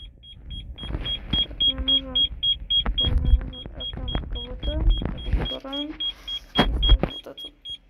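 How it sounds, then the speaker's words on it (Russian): A high electronic beep repeats steadily, evenly spaced, running under close conversation and interior noise aboard a Novosibirsk metro train. "Пищит опять."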